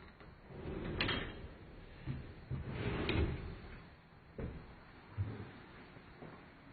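Pocket doors in a resort villa kitchen and laundry area slide open and shut several times, giving soft rolling rumbles and light bumps at close range with no talking.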